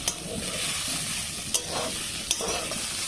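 Vegetables frying in a pan, with eggplant and potato mentioned, give a steady close sizzle and a few sharp clinks of a utensil scraping and stirring.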